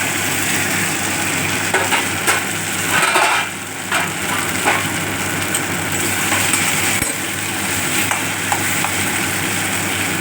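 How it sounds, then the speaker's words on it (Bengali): Spice paste being sautéed with previously fried potatoes in a pan, a continuous sizzle with scraping stirs of a spatula and a low steady hum underneath, close and loud with no talking. "আলু দিয়ে মশলাটাকে কষে নিচ্ছে"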